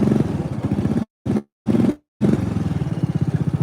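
Small engine of a John Deere riding mower running rough on one cylinder while belching white smoke, a loud uneven putter close by that cuts out twice in short gaps before resuming.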